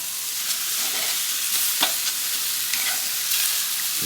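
Loud, steady sizzling of Chinese barbecue meat on a hot Weber kettle grill, with occasional scrapes and ticks as the pieces are shifted around. No voices are heard.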